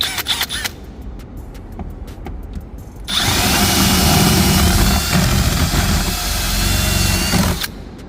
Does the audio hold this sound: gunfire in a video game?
no